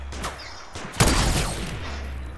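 Video game gunfire from the player's weapon: a burst of loud, close shots strikes at about one second over a steady low rumble of background game noise, then fades.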